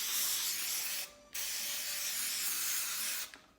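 An aerosol can sprays iridescent glitter in two long, steady hissing bursts close to the microphone, with a short pause between them and a cut-off near the end, and no talking.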